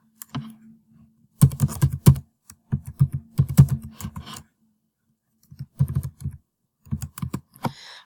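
Bursts of typing on a computer keyboard as login details are entered, clusters of close, crisp key clicks separated by short pauses, with no talking.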